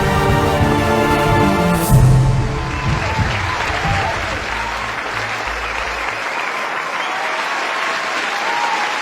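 Audience applause and crowd noise ringing out at the close of a Tamil stage dance show, with a loud burst of clapping early on and then steady, sustained clapping filling the hall for the rest of the stretch.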